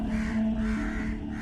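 A crow caws loudly in one drawn-out, harsh call over a dense backdrop, used as a story sound effect for a crow slamming into a car windshield at a monastery gate.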